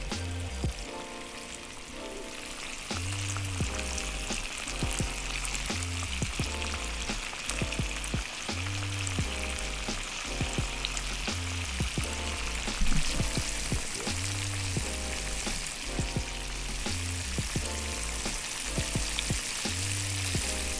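Sturgeon fillets sizzle and crackle steadily in a hot pan, a dense, even frying hiss with small pops and a low background hum running throughout.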